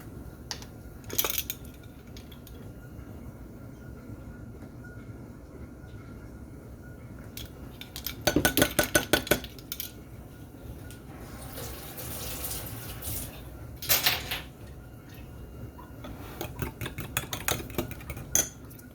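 Butter, egg yolk and vanilla being mixed in a bowl, with bursts of scraping and rattling clatter, a longer busy stretch midway, over quiet kitchen background.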